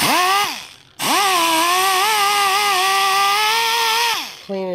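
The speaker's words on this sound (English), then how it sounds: "or my angle die grinder, and I get these little scrubber pads from Harbor Freight" An angle die grinder fitted with a scrubber pad cleans the cylinder head of a 1986–87 Honda ATC 200X. It gives a loud, close whine that spins up, dips, revs again and then winds down.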